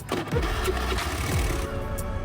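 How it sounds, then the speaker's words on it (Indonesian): A 2012 Honda Spacy scooter engine cranks and fires, a few quick starter whirs rolling into a rough idle, close and moderately loud. "Tuh ini dia suara mesin dari motor ini"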